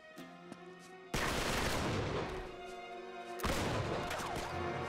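Gun firing in Uncharted 3, two loud bursts of sustained blasting about two seconds apart, each dense and crashing, ringing over a quieter tonal game background, no talking.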